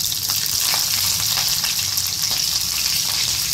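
Mustard seeds, chillies and cumin sizzle and crackle in hot oil for a tadka, a loud steady frying hiss with faint pops throughout and no talking.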